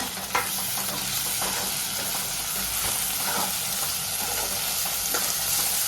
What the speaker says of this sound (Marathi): तर इकडे आपला कांदा लाल झालेला आहे त्याच्यामध्ये आपण टोमॅटो टाकलेला आहे